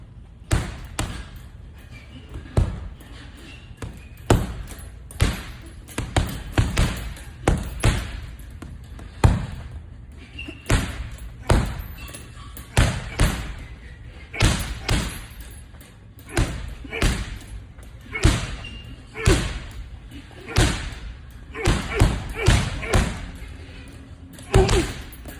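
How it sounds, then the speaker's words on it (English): Professional boxer Devin Haney pounds a heavy bag with a steady run of sharp, loud thuds, about two to three per second, each landing as a crisp impact over a low room hum. "the video that's circulating around the boxing world right now of Devin Haney hitting"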